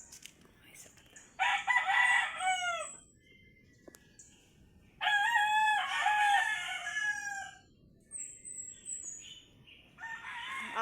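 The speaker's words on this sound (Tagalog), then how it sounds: "Ito mga manok mo gumigising sa akin eh." Roosters crow in two long, loud calls nearby, with fainter clucking and chirps between them outdoors.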